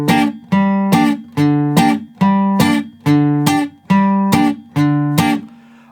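An acoustic guitar in standard tuning plays a two-bar intro of strummed chords, eight bright, ringing strums in a steady, even rhythm, close and clear with nothing else heard.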